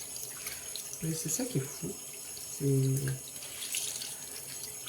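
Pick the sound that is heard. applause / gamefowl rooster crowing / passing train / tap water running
tap water running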